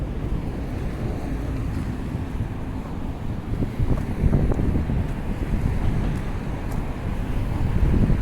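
Steady wind blowing across a waterfront street, rushing and buffeting a close microphone throughout, with a constant low roar and no voices.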